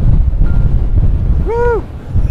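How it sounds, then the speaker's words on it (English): Strong wind on Ireland's Atlantic coast buffets the microphone in rough, low gusts, with a brief rising-and-falling whistle-like tone partway through. "Tad windy."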